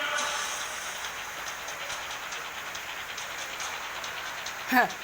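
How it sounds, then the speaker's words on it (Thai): Rain falling steadily outside, a dense, even hiss filling the background with a brief sharper sound near the end. "ตอนนี้ฝนมันก็ตกนะครับ"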